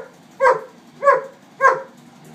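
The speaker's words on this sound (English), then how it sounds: "What are you barking at?" A dog barks three times at an even pace, each bark short and loud, close by, with quiet surroundings between.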